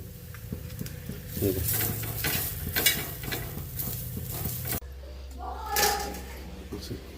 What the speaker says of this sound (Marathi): तर कांदा बी आपण भाजून घेऊ चांगला काळे पडेपर्यंत